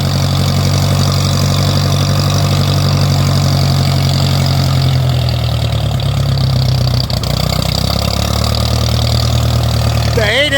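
A Ferguson tractor engine idles steadily and close by, a continuous low rumble that holds throughout with little change in rhythm.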